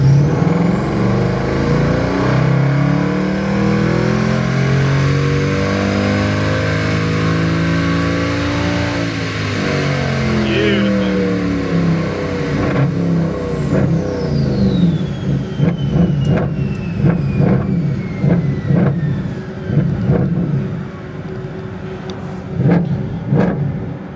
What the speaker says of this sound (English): I'm throttling up and you see it's not going past 1800 RPM until I hit the go button